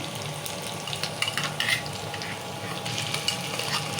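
A ground paste of onion, tomato and green chilies frying in oil in a pan, a dense continuous sizzle with brief bursts of stirring scrapes near the middle, close and steady, without speech.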